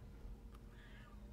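A cat gives a single faint, short meow over a low background hum, with no talk.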